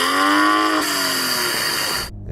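A BMW M240i's six-cylinder engine revs hard, its tone climbing and holding loud and close, then easing off and cutting to near quiet after about two seconds.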